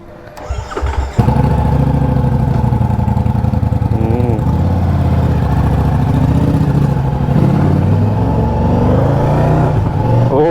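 A Ducati motorcycle engine fires up after a few clicks and then idles and revs with a steady, loud, close throb, its pitch rising and falling through the ride.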